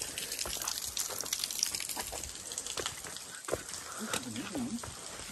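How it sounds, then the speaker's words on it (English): Water rushing across a flooded mountain walking path in the Blue Mountains after a mini waterfall, a steady broadband wash running throughout, with brief bird-like chirps and scattered sounds on top. "The water is flowing on the path."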